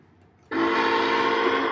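A North American train in a video game sounds a sustained horn that cuts in abruptly after a quiet lead-in and holds steady and loud to the end.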